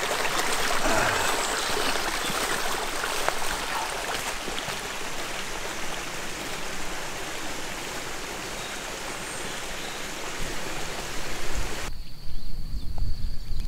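Water from a stream found while hiking in the Monts du Lyonnais, flowing steadily and fairly close, a continuous broadband rush and trickle that carries on alone, growing slightly louder and rougher near the end.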